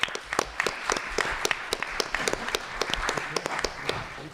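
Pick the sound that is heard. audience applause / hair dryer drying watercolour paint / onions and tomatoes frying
audience applause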